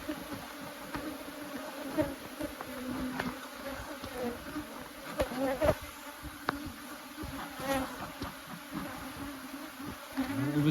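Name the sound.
honeybees buzzing around hive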